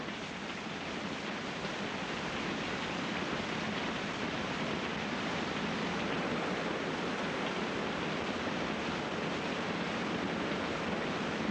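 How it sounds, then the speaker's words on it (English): Tidal water surges through the horizontal waterfall gorge in Australia's Kimberley as a constant, broad roar of rushing water that holds steady throughout, with no voices. "Malcolm called this the horizontal waterfall back in 1971"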